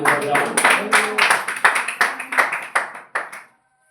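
A church congregation claps in quick, rhythmic bursts, loud and close, keeping an even beat before stopping abruptly into silence.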